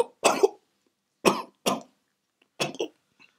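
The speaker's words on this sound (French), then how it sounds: "tu as cette toux depuis quelque temps" A man coughing several times: a double cough, then a pair of single hacks and another double cough, close and loud with silence between.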